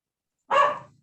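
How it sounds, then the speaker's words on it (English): A single sharp dog bark, close and clear, following silence and fading quickly. "my dogs are barking"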